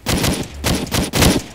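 Several loud bursts of rapid gunfire in the FiveM roleplay game, close and harsh, with short gaps between volleys.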